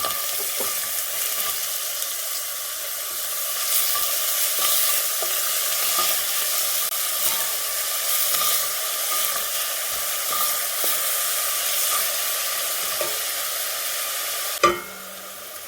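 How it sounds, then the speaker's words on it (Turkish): Onion with salt sautéing in hot oil produces a loud, continuous close-up sizzle with scattered crackles and stirring scrapes, ending in a sharp knock of a utensil on the pan. "Şimdi soğan koyalım. üzerinde tuz koyup kavuralım."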